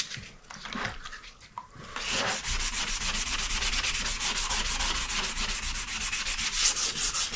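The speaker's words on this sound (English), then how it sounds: "We're going to wet sand this for a while" Steady wet sanding of a plastic fuel tank from a 1983 Yamaha IT 175 dirt bike with 500 grit wet-and-dry paper, a continuous close rhythmic rubbing with quick repeated strokes after a brief quieter start.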